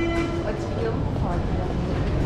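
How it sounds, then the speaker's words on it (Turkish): A Berlin metro train rumbles and hums nearby in a loud, continuous wash of low mechanical noise, with a rising whine as it moves off; voices talk faintly in the mix. "Metro da gidiyor."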